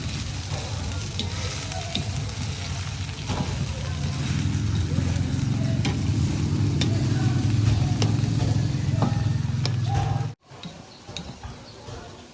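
Peanuts fry in hot oil for adobong mani, sizzling steadily with occasional pops and stirring scrapes, loud and near; the sizzle cuts off abruptly near the end, leaving quieter background noise and some talk.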